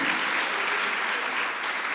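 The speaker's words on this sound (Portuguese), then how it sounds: "Aplaudir Jesus, gente." Congregation applauding during a church service, a dense, steady wash of clapping from many people that stays loud and even for the whole short stretch.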